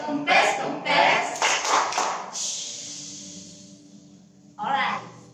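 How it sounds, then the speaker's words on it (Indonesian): Children perform the 'tepuk sepeda kempes' clapping chant during an online children's worship session, with bursts of rhythmic clapping and chanted voices up front, a quieter stretch, then a final burst of claps. "Oke, tepuk sepeda kempes."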